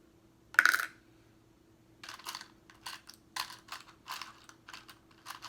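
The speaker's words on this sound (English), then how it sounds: "this is how we sort the buttons here" Plastic buttons dropped one by one into cups while a toddler sorts them, one sharp clatter followed after a pause by a quick series of small clicks and taps, close and quiet.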